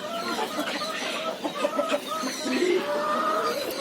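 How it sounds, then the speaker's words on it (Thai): Free-range chickens and guinea fowl clucking together on a poultry farm, a steady busy chorus of overlapping clucks close by. "นี่ก็จะเป็นไก่บ้านเอ้ไก่ต๊อกแล้วก็ไก่บ้านรวมกัน"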